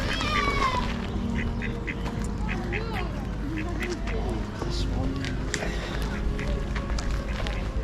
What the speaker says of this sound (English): Oh, look, the ducks, the ducks, the ducks.